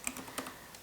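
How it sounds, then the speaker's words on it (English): Quick, light clicking of a computer keyboard typed with long fingernails, a few soft taps in a brief, faint burst with no voices. "I've got my nails and it makes typing very difficult."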